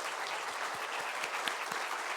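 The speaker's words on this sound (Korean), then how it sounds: "네, 크게 박수할까요?" A church congregation at a Sunday service in Namyangju, South Korea, claps warmly to welcome first-time visitors. The clapping is dense, steady and mid-distance, with no talking over it.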